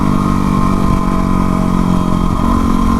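A Yamaha WR250R supermoto runs steadily close by, its engine giving a loud continuous drone with a slight dip in pitch near the end, and no one talks.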